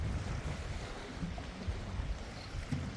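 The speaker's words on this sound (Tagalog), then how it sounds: "kita mo yung waves guys, hindi masyadong malaki dahil parang nasa cove siya eh" Small ocean waves wash steadily in a sheltered cove at Bodega Bay, California, a constant broadband surf rush with wind noise and no talking.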